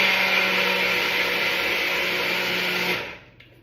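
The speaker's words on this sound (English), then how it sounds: "I have just a little tabletop Ninja blender that this sits in. It's gonna blend it up really quick." A small Ninja tabletop blender whirs steadily at high speed, blending an ice cream base for a Ninja Creami pint, loud and continuous for about three seconds before it winds down and stops.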